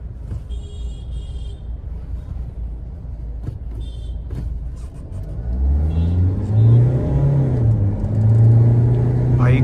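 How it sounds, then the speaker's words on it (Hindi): A 2025 black Mahindra XUV700 AX5 diesel automatic accelerating on the road, engine rumble swelling into a louder rising drone partway through, heard from inside the cabin, with no talk. "भाई गाड़ी की पावर देखो कितनी ही तगड़े लेवल की है भाई 90 चढ़ गई थी गाड़ी।"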